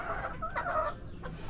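Chickens kept in a cage cluck nearby in a quick burst of short, clipped calls, moderately loud over a low background hum.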